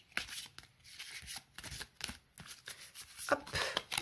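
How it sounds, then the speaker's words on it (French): Tarot cards are shuffled by hand in a series of quick riffling bursts and soft slaps, close and fairly quiet, with short pauses between. "On va mélanger les cartes."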